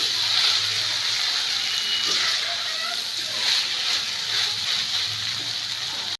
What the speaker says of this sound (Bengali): এইবার এই সবজির মধ্যেই আমি দিয়ে দিচ্ছি মুগ ডাল ডালটা দিয়েও একটু কষিয়ে নিচ্ছি